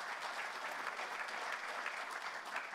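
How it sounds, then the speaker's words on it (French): An audience at a presentation applauds the president, producing even, continuous clapping that holds at a fairly soft, distant level for the whole stretch. "Je crois qu'on peut applaudir le Président."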